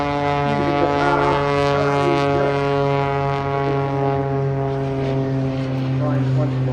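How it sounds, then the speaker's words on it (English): A jet aircraft engine roars past at the Eastbourne International Airshow, a loud, steady drone that holds for several seconds before slowly easing as it flies away. "The jet engine. Flying away."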